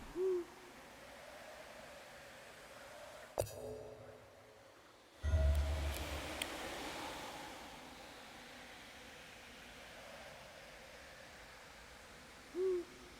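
Owl hooting in the horror video game D4: Dark Dreams Don't Die, two short hoots at the start and end of the clip over a low ambient wash, with a brief rumbling thud midway.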